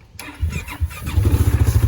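An engine starts: a short cranking stutter, then it catches into a steady, throbbing idle with regular pulses, close and fairly loud.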